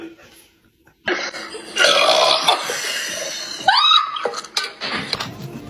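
A loud, drawn-out burp erupts after a gulp of Sprite, close to the mic. Coughing and throat noises follow, and a brief voice is mixed in.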